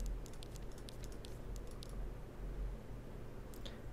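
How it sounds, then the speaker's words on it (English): Soft, quiet typing on a computer keyboard, a run of light irregular key clicks continuing throughout with a few brief pauses, close and intimate with no talking. "I think it's better to use a mouse and keyboard."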